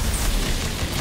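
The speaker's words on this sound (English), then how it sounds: "Wait, the plasma cannon." Plasma cannon blast in a battle game against a hundred players, a loud, dense, rumbling explosion filling the whole second with heavy low booming noise.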